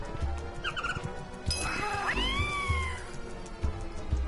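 A cartoon cat meows in the platform video game Braid Anniversary Edition: a few clear, rising-and-falling mews, fairly close and loud, over a steady bed of soft game music and ambience.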